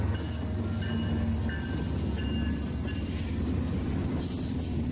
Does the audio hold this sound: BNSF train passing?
yes